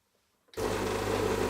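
Old Gaggia Classic 9303 espresso machine switching on after a brief near-silence, its pump breaking into a steady, loud vibrating buzz up close.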